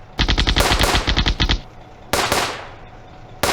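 Machine guns fire in a WW2 real-time strategy game, first a long rapid burst of close, loud shots, then two shorter bursts after a pause, with no voices.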